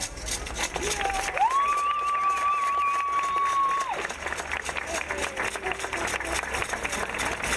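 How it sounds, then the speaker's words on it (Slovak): An audience at an evening gathering at a sheep farm applauds and cheers in a continuous, fairly loud burst, with a long steady whistle or tone sounding over the crowd for a couple of seconds. "Keď sa s ňou potrasie, tak veľký potlesk pre vás, pre všetkých."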